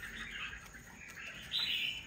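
A wild-caught red-whiskered bulbul sounds soft, thin chirps, then gives a louder, sharper call near the end, heard alone with no talk.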